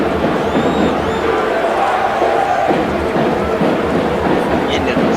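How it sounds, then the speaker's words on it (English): A stadium crowd roars steadily at an Ohio State football video game, a dense, continuous wall of cheering with whistle-like tones rising above it, while a commentator speaks over the noise. "And the crowd is absolutely roaring."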